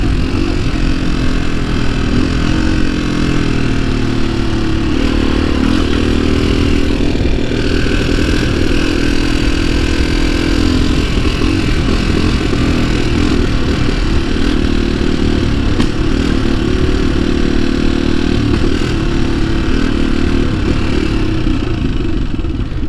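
Honda XLX 250R motorcycle engine running loud and close, revving high with a rough, stuttering misfire and uneven clatter throughout, no one talking.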